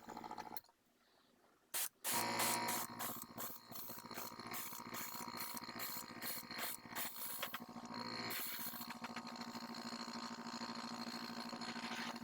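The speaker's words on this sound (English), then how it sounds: "It's just kind of a transparent overspray to make it look a little more metallic." Thinned metallic overspray mists from a spray can onto the black blade of a foam prop knife, a steady close hiss that comes in quick short bursts at first and then runs continuously.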